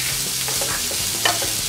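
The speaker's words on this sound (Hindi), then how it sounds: "इनको भी हम 1 मिनट के लिए भून लेंगे।" Chicken chilli is stir-fried in a pan with close sizzling and scraping stirring strokes, short and fairly loud, with no voices.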